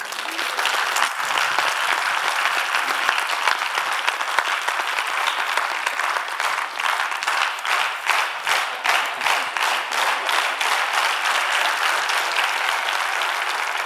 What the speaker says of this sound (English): Another round of applause for Professor Mitra.